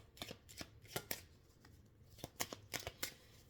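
Oracle des miroirs cards being shuffled by hand in short papery riffles and flicks, a quick cluster, a pause, then another run of crisp bursts, close and fairly quiet with no talking.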